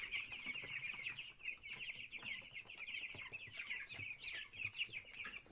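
Cobb 500 broiler chickens in a straw-bedded shed keep up a constant, faint chorus of clucks and chirpy peeping, many birds overlapping with no pause or talk.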